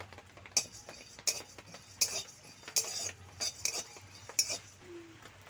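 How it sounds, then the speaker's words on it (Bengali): Whole coriander and cumin seeds stirred in a dry pan, giving a series of sharp metallic scrapes and clinks from a utensil against the pan at an irregular pace, close and fairly quiet, with no voices. "এই যে অনেকক্ষণ ধরে মশলাটা আমি নাড়াচাড়া করে নিচ্ছি"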